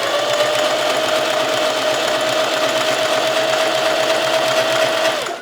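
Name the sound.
sewing machine stitching a seam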